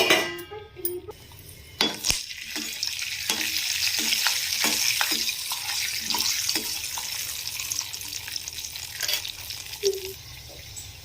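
Peanuts and chana dal fry in hot oil in a kadai, a steady close sizzle running throughout with scattered stirring clinks and a brief water splash near the start; no one speaks.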